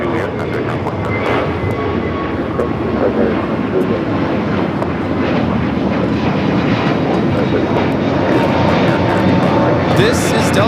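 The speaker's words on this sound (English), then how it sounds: "749 taking off to Tampa, Florida on the A321neo." A Delta Airlines A321neo taking off from LAX for Tampa roars loud and close with constant broadband engine noise and some wind buffeting, while people talk over it throughout.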